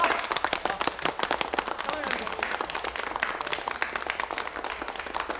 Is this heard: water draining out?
no